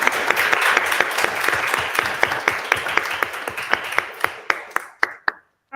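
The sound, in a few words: applause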